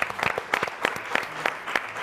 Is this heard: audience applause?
yes